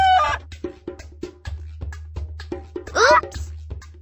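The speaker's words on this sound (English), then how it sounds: "That's right! It's a chicken!" Rapid clucking from a cartoon chicken in a Dora the Explorer farm video game, a string of short clipped clucks over a steady low hum, ending in a louder squawking call.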